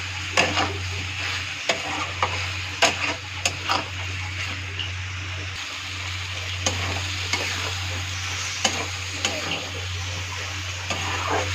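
Chopped onions fry in a pan with a soft steady sizzle while a spoon stirs and knocks against the pan in repeated scraping taps, over a low constant hum.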